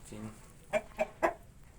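Grey hens clucking in a village farmyard, three short, sharp clucks spaced evenly after a soft lower murmur, close by and moderately loud.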